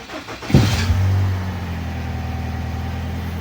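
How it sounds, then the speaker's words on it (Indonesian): An automatic scooter's engine cranks with a short, loud burst from the starter, then catches and settles into a steady, low idle hum that carries on close by, with no talking. "Oke, kita coba starter mesinnya."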